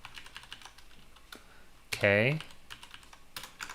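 Light clicks on a computer keyboard tapping in a sparse irregular rhythm, broken once by a short spoken word.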